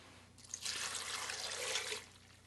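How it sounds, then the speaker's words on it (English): Two cups of water poured into an Instant Pot holding raw cashews, a steady close splashing stream that rises quickly, holds for over a second and then stops. "we're just putting all of that in the Instant Pot, and then 2 cups of water."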